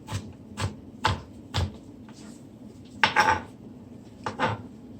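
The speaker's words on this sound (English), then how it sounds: "mince that onion as fine as you can" A knife mincing onion on a cutting board: a handful of sharp, separate chops at an uneven pace, with a quick cluster of cuts midway. The sound is close and there is no talking.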